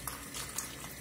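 Clean water trickling while a makeup brush is rinsed, a soft continuous splashing and dripping heard close up and at low volume.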